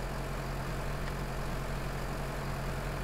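A Ford tractor's diesel engine in Farming Simulator 2013 runs at a steady idle, a continuous low drone without variation.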